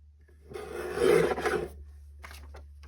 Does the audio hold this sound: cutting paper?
yes